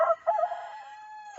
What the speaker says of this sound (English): there's this rooster here